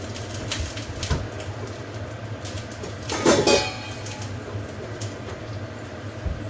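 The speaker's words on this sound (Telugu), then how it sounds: "ఇప్పుడు ఈ పప్పుని మనము బౌల్లో తీసుకుందాం." Mango dal is ladled from a cooking pot into a bowl: a spoon clinks and scrapes against the metal in several irregular taps, with one louder scrape partway through, and nobody speaks.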